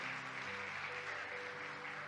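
Congregation applause during a Spanish-language church service, a steady, even patter of many hands clapping throughout, moderately loud and unbroken, with a faint musical tone underneath.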